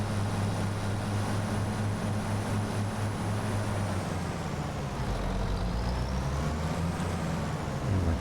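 Steady tractor engine drone from an Allis farming video game, driving with a plow, a continuous loud hum with no talking.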